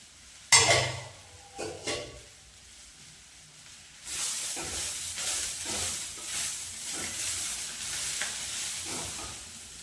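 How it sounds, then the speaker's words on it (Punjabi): Onions frying in a pan, with a sharp clatter at the start, a few knocks, then a steady loud sizzle broken by stirring scrapes, and no talk. "ਪਿਆਜ਼ ਆਪਣੇ ਭੁੰਨੇ ਗਏ ਜੀ"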